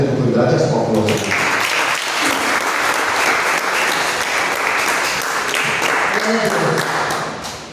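Steady, dense applause from a congregation at a church worship service fills the whole stretch, loud and sustained before thinning slightly at the end.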